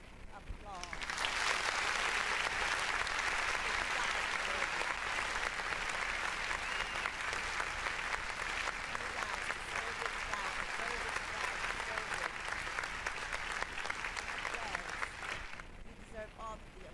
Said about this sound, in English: And I'm going to also give you some nice applause.